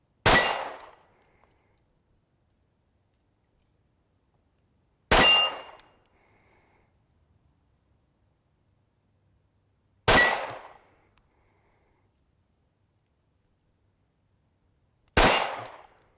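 Four single Glock 43 pistol shots fired one-handed at steel targets, each a sharp loud crack with a ringing metallic clang that decays quickly, spaced about five seconds apart with silence between.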